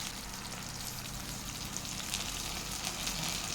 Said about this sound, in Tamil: இப்போ இது கூட பச்சை மிளகாய் வந்து சேர்த்துட்டு நல்லா வதக்கி விட்டுக்கலாம்